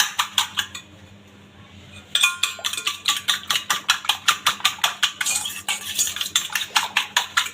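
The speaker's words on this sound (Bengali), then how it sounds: "কাঁটা চামচ দিয়ে ভালোভাবে ডিমটাকে ফেটিয়ে নিব" A fork beats eggs for egg bread, rapid rhythmic clinks against a bowl, loud and close, pausing briefly near the start before a fast, even run of strokes.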